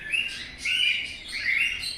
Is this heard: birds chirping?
yes